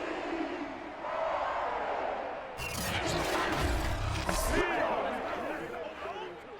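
Home crowd in a Madden 22 football video game simulation of Saints vs Panthers swells into a loud roar for a few seconds, rising under continuous play-by-play commentary before settling back down.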